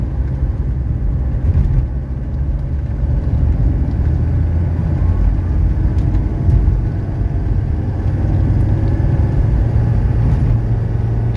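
A 1985 Mercedes 300D diesel pulls uphill after a downshift, its engine a steady low drone inside the cabin, loud and continuous with no talk.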